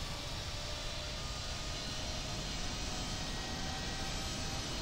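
An American Airlines Boeing 777 jet takes off at Dallas Fort Worth International Airport, a steady, loud broadband engine roar filling the whole clip without letup.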